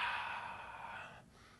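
A long, breathy inhale during a beginner squat exercise, close and steady, fading out near the end with a small click, no speech.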